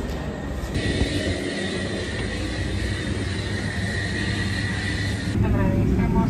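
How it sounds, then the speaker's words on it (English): Steady broadband roar of an airplane parked near a small airport gate, likely engine or auxiliary power noise, constant and fairly loud throughout with a faint voice in the background. "I think our plane just pulled up, so that's good news."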